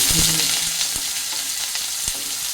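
Pieces of giant taro fry in hot mustard oil, giving a loud, steady sizzle with sharp knocks and scrapes as they are stirred.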